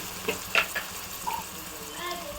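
Potato pieces frying in a pan with curry leaves and coriander, a soft, low sizzle broken by a few clinks and stirring scrapes close by.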